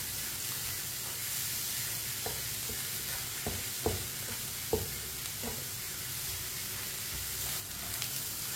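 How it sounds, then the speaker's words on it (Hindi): Eggs and tinda (round gourd) cook in a pan with a soft continuous sizzle, punctuated by several sharp taps and scrapes of a stirring utensil, fairly quiet and close. "अब इससे भी अब अंडों को भी 2 मिनट के लिए पका लेंगे ताकि सब चीजें हमारी अच्छी तरह पक जाएंगी।"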